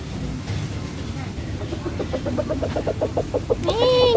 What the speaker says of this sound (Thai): น้องไก่น้องไก่เพียบเลย